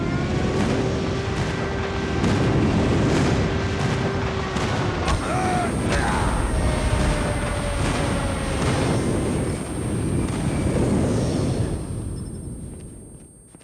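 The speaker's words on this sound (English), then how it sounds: "Friendly airstrike incoming." Booming explosions and bursts of gunfire from a Call of Duty Mobile airstrike, loud and dense throughout with layered combat noise, tapering off near the end.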